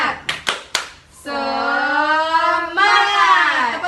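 Schoolchildren in a primary classroom give three quick sharp claps of a 'tepuk semangat' routine, then break into a long loud group shout, close by.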